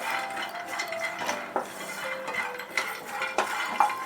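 Peanuts tossed and stirred in a pan while dry-roasting for ragi laddu, a steady scraping rattle with small clinks of a spoon against metal, close and moderately loud with no talking.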